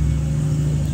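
A loud car engine rumbles steadily at close range, holding a low, even drone without speech.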